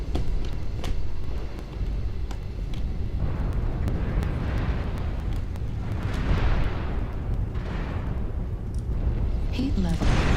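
Heavy rumbling blasts and crashing booms fill the whole stretch as a mech is destroyed in the Mechwarrior Online video game, loud and continuous, with a few sharp pops and thuds layered on top.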